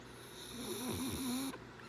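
A dog snores softly at night, a steady low rasping breath close by with a faint tonal whine, alone under a constant background hiss that cuts off near the end.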